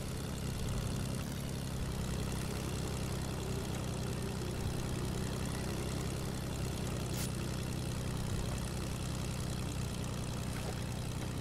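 A propeller airplane engine drones steadily in a video game, a constant loud buzzing hum with no change in pitch and no talk.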